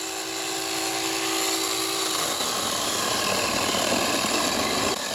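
A VELOTREX mini cordless chainsaw whines loudly and continuously, its motor tone shifting and roughening partway through as the chain bites into wood. No talking.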